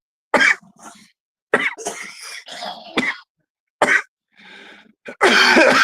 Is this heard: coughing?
yes